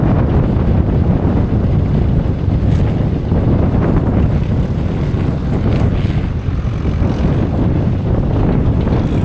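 Strong wind roaring steadily across a silage field in West Cork, buffeting the microphone with a continuous low rumble and no speech.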